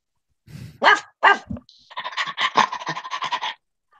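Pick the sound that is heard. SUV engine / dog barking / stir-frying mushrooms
dog barking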